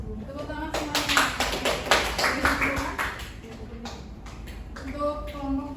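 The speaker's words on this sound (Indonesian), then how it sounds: "Tepuk tangan semuanya." A class applauds after a group presentation in a microteaching classroom session, scattered clapping bursting out and fading while students' voices chatter underneath.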